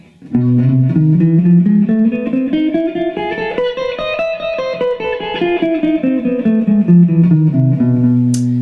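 A sustained guitar line in the Lydian flat 2 flat 5 mode, starting on B, with smooth pitch slides rises and then falls back, each note ringing into the next, played alone with a bright, somewhat effected tone.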